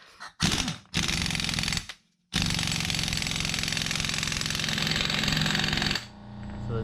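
An Aircat 1178-VXL half-inch impact wrench tightens a nut with loud, close hammering: a short burst, a second burst of about a second, then one long sustained rattling run before it cuts off. No one talks.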